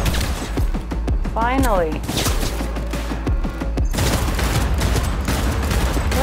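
Rapid gunfire bursts and explosive thuds from combat in the video game Cyberpunk 2077, loud and dense throughout, with a player talking over the shooting.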